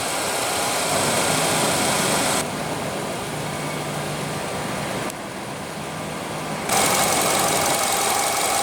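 A 2016 Nissan Altima's 2.5 L inline four-cylinder runs steadily at idle with a smooth, even drone, heard close with a faint ticking texture and small shifts in level.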